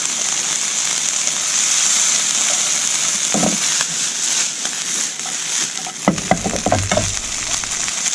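Prawn heads fry in a pan with a steady, close, bright sizzle. Scraping and stirring noises cut in now and then, and they grow busier toward the end.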